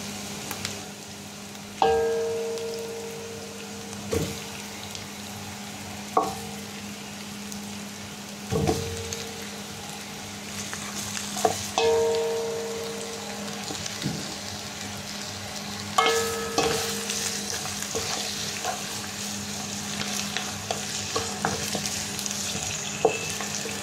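Pork trotters (pata) sizzle and fry in a pan after garlic, a steady crackling bed broken by sharp clinks and scrapes of stirring throughout, with no talking.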